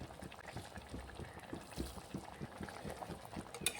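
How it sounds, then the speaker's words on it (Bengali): Chicken rezala curry bubbles on a high gas flame, a soft, faint run of regular plopping bubbles with a low liquid churn throughout. "এবারে গ্যাসের ফ্লেমটাকে একটু জোর দিয়ে ভালো করে ফুটিয়ে নেব"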